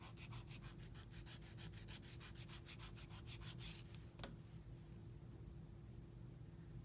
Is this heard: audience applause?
no